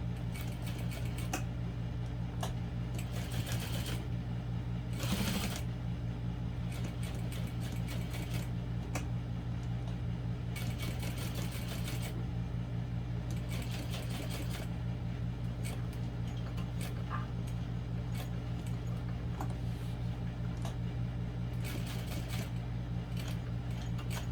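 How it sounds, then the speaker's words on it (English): A sewing machine stitches a barrel bag in repeated short runs, its fast mechanical patter starting and stopping over a steady low hum, quiet and close, with no voices. "now I'm just sewing this on"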